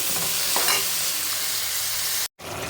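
Mutton curry being stirred in a pressure cooker for biryani, a steady close scraping and sizzling texture for a few seconds, with a brief dropout near the end.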